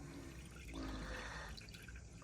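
Waste pipe and tank cleaner gurgles and bubbles down a caravan drain in a steady, faint, continuous wash of liquid noise heard up close, with no voices.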